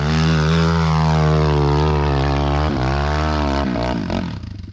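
A ported, tuned GNS 300 enduro motorcycle engine revs loud and close, its steady harmonic drone holding high before briefly dipping and blipping near the end as the throttle eases off.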